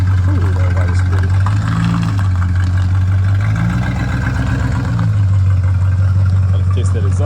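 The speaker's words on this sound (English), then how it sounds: "Gotta fix that exhaust leak" A 1984 Mercedes 500SEC Euro with an exhaust leak idles close by, giving a steady, continuous low rumble that swells briefly a couple of times before settling back to an even idle.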